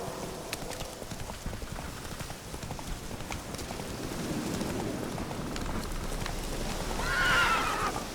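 The horse Roach gallops in The Witcher 3, hooves clip-clopping at a quick rhythm over a rain-like wash. A whinny rises clearly near the end.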